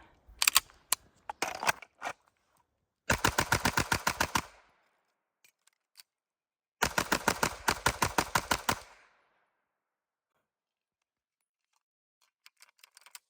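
Springfield Prodigy Comp pistol, a 4.25 model with DSCGUNWORKS work, firing two long rapid strings of about a dozen shots each outdoors on a hot day, preceded by a few scattered single shots and followed by faint clicks.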